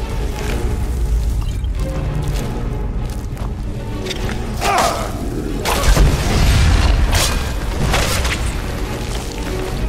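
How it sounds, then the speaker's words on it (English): A loud explosion booms in the video game Skyrim, rising out of busy combat noise into a heavy, rumbling blast that rolls on for a few seconds. "That explosion gets me every time."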